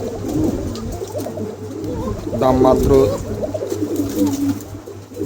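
Low cooing of a pair of white king pigeons murmurs under someone talking close by, with a steady hum in the background.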